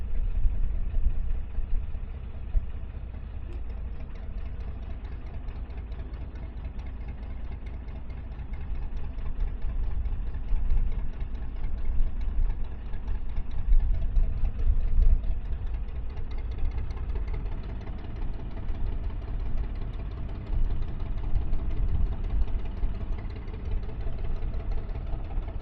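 Narrowboat diesel engine on the River Thames at Henley, a steady low rumbling chug that continues throughout and rises slightly in the middle after being put into reverse, heard close with no talking.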